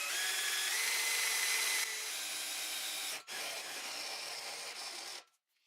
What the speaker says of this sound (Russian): просверлим в ней отверстие